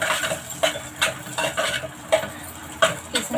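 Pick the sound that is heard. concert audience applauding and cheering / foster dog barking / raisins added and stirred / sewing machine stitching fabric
raisins added and stirred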